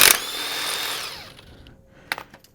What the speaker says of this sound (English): So I'm going to put a 21 millimeter impact on here